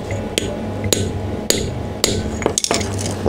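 A hammer drives a bearing into a homemade motorcycle part in a workshop, landing about six sharp metallic strikes, spaced roughly half a second apart and then closer together, loud and close over a low background hum.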